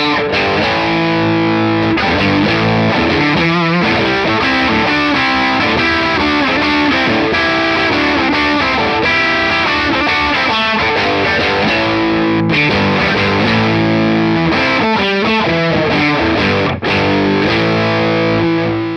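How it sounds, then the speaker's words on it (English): Electric guitar played through three stacked overdrive pedals, the cascading gain giving a thick, heavily distorted tone; loud continuous chords and riffs with brief pauses, no talking. "we're getting some nice cascading gain stages with the overdrive from each pedal kind of mixing with the other"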